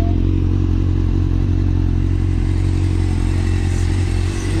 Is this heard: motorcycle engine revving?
yes